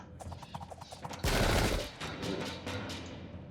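A musket volley fired by massed troops in Sengoku Jidai: Shadow of the Shogun, at the Battle of Nagashino, bursting out as a loud, dense crackle of gunfire that trails into a rumbling battlefield din.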